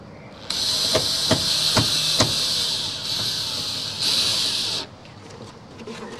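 A power driver runs in long sustained whines as screws go in to fit an inground swimming pool skimmer, with sharp taps early on and a second burst before stopping, close and fairly quiet.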